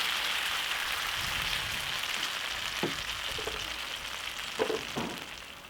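Thin coconut rice crepe batter cooks in a hot pan, giving a steady, soft sizzling hiss throughout, with a few faint taps and clicks near the end.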